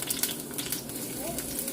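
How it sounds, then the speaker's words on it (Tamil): Small onions sautéing in a pan for a Kerala-style fish curry, a continuous close sizzle with light stirring scrapes, brief and steady, no voices. "வெங்காயம் நல்லா வதங்கி வரட்டும்"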